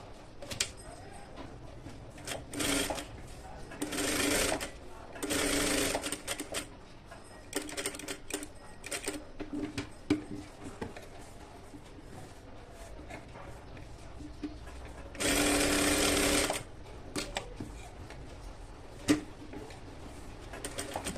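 A sewing machine stitches lining onto a blouse in several short mechanical whirring bursts, with quiet handling noise between runs.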